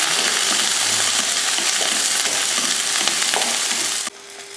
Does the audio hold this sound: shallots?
yes